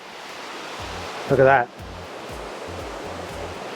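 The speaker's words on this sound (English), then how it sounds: "you can just hang out in this room as you hear that river below trickling along" A river trickles below a jungle villa in Bali, heard as a steady soft rushing wash throughout, with someone briefly speaking over it.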